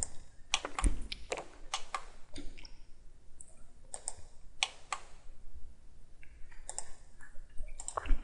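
A computer mouse clicks in quick clusters of sharp, close ticks during CAD modelling in Autodesk Inventor, with short pauses between groups.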